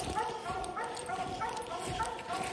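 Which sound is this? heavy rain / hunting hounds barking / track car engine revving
hunting hounds barking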